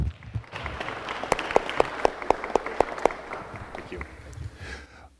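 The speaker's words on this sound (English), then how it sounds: "Let's give the principal a big round of applause." Applause for a school principal at a neighborhood community meeting, a modest crowd clapping with several loud, evenly spaced claps close by, tapering off after a few seconds with faint voices underneath.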